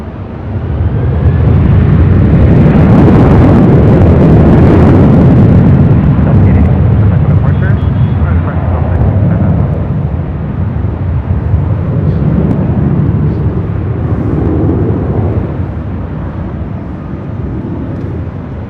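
A Delta Airlines Airbus A319 jet takes off at LAX, a loud rumbling engine roar that swells early then holds and gradually fades, with a voice talking over parts of it.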